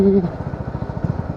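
Motorcycle engine pulsing steadily at low revs, heard close, with a brief voice at the very start.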